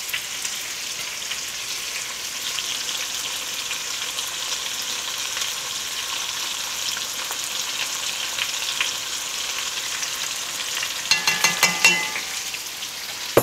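Braised pork sizzles in a pan as soy sauce goes in, giving a dense, even crackle throughout. Near the end come a few sharp, quick taps and scrapes, with no talking.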